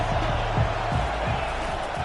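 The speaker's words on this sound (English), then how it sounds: "This crowd trying to make life miserable for this offense." A dense stadium crowd roars at a college football game between Kansas and Oregon, a steady loud wash of many voices with scattered shouts, faint announcer-style talk blended underneath.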